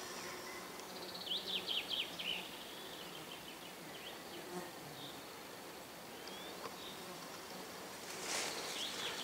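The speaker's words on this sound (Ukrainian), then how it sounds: "видно, як все болото гудить від комах" Dense insect buzzing over a flowering marsh honey plant, with bumblebees, bees and other pollinators droning steadily, individual passes flaring up now and then over a continuous hum, with no voices.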